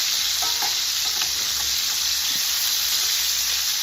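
Lamb chops sizzle loudly in a hot pan just after being flipped, a close, constant hiss of searing fat with a few soft pops and light scrapes beneath it.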